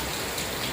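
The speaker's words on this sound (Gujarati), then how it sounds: "વરસાદ જે શરૂ છે પણ હવે ધીમો પડી ગયો" Rain falls in a steady, dense patter for a brief moment, even and fairly loud, with no voices.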